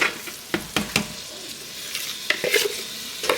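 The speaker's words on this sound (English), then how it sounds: "We're going to add these vegetables." Vegetables hitting cooked onions in a pot for a chicken and seafood gumbo sizzle steadily, with a few sharp stirring scrapes and knocks of a spoon up close, no talking.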